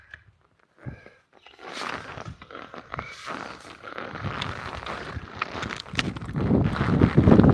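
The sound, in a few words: strong wind in an open field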